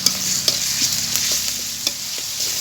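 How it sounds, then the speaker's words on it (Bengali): Onion sautéing in a ginger, garlic and cumin paste sizzles steadily in the pan, with sharp scraping stirs landing every half second or so, close and alone without any voices. "এখানে আদা রসুন জিরা একসাথে পেস্ট করা এইবার দিয়ে দিব হচ্ছে গিয়ে মশলা দিয়ে একটু কষাই নেবো পেঁয়াজটাকে"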